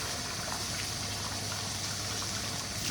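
Water from a hose rushing into a tub for a pet, a steady close gushing hiss that fills the moment without pause.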